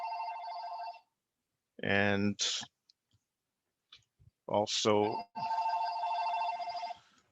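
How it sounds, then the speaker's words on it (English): A telephone rings in two bursts of electronic trilling during an online presentation about social media ads, with someone talking briefly in the gap between rings. "sorry about the phone call there."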